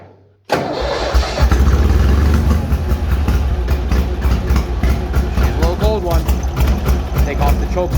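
A Bolens HT-23 garden tractor engine catches on choke and settles into a loud, steady close-up run with a low rumbling drone, a voice speaking briefly over it.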